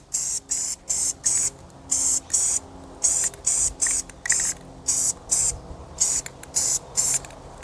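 Spray can bursts apply a light coat of paint to cleaned brake parts and springs from a 1956 Ford F500 truck, about fourteen short hissing sprays in an uneven, repeated rhythm, close and fairly loud with no talking.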